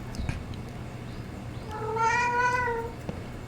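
A cat meows once in the video game Alfred Hitchcock Vertigo, a single clear, drawn-out call rising and falling over about a second, close and fairly loud against a low ambient hum.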